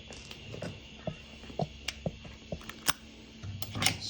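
A camera tripod is extended beside a workbench, giving a run of sharp, close clicks and snaps spaced irregularly over a low background hum, with a busier rattle near the end.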